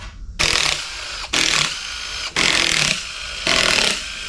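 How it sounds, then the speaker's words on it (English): An impact wrench with a chrome socket removes parts from a failed LS 6.0 engine in a 1986 Chevrolet C20 Suburban, firing in four loud, close bursts of about a second each, separated by short pauses. "That's a chrome socket on an impact, I know."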